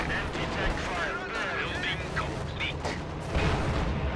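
ML-20 artillery fire in a World War II strategy video game: faint booming shots and dense battle noise rumble continuously, with bursts of gunfire scattered throughout.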